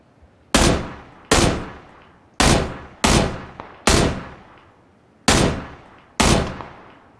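Gunfire in the video game PUBG, seven loud single shots spaced unevenly over several seconds, each a sharp crack with a short decaying tail, heard alone without talk.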